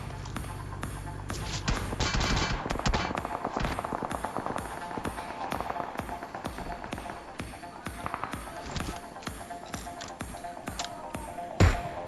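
Gunfire rings out during a PUBG Mobile match, a run of sharp shots and bursts mixed with game effects while someone talks over the action.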